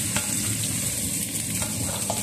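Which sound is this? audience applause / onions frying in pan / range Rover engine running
onions frying in pan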